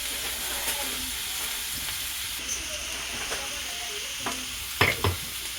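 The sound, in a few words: garlic and onion frying and being stirred in pan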